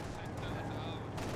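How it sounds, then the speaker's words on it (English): Grenadier rifle volleys from a World War II real-time strategy battle in Company of Heroes, a steady dense crackle of gunfire under continuous battle noise with voices talking over it. "Grenadiers firing away."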